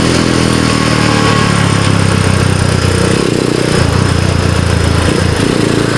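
A Rusi Gamma 200 motorcycle with an upgraded carburetor runs steadily right after a cold start, its loud, close engine drone holding an even idle rhythm throughout with no talking.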